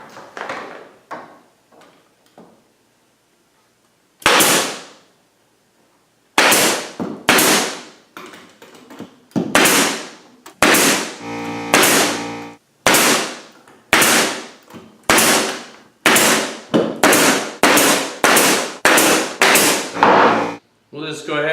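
A brad nailer drives brads into glued-up table base pieces in a woodworking shop. The sharp, loud pops come singly and then in a quick string of close shots with short gaps between them.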